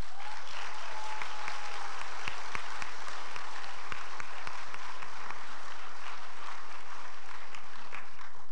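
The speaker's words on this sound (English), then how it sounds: "So let's give them another round of applause." An audience at a senior awards ceremony applauds steadily, with dense, sustained clapping from a large crowd that continues unbroken for several seconds.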